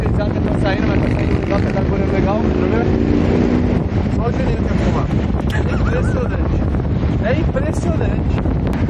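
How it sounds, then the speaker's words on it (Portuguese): Strong wind buffets the microphone on an open walkway, a loud continuous low rumble and roar that never lets up, with people talking faintly underneath. "Tá ventando muito"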